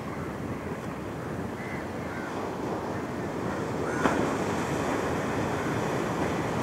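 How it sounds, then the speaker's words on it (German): Ocean waves and wind on a beach in Kerala, India, a steady low roar of surf with wind rumbling on the microphone, swelling slightly toward the end. "Hört den Wellen"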